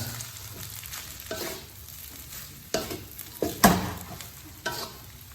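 Three eggs stirred in a pan for simple fried rice, with a quiet, steady sizzle and scattered spatula scrapes and taps that grow louder near the end.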